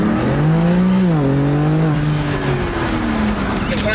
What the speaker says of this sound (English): All right, Courtney, full throttle, high acceleration.